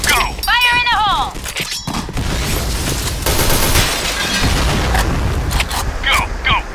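Point Blank first-person shooter match: dense bursts of gunfire and booming grenade blasts pile up loud and continuous, with a brief shattering crack, under shouted squad callouts and game voice lines throughout.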